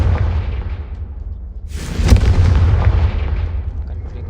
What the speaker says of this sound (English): कन्फ्लिंगो से जलाना है।